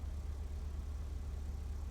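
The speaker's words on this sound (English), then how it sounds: "No, he's still got his engine on." A car engine idles steadily in GTA V (FiveM), a low, continuous rumble with no voices over it.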